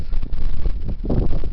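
Heavy wind buffets the microphone in a loud, continuous low rumble that surges and eases, with no voices.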